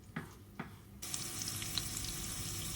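Steady, loud frying sizzle with crackling hiss of steak searing at very high temperature starts abruptly after a couple of soft clicks and continues without pause.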